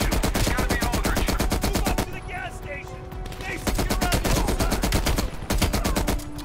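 Sustained automatic gunfire in Call of Duty Black Ops Cold War, loud rapid bursts that pause briefly in the middle before resuming, with faint voices underneath.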